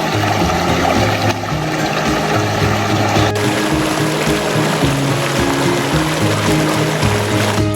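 River water rushing and burbling steadily, heard while two backpackers soak their feet in the stream, a continuous close wash of flowing water with a low rumble throughout and no voices.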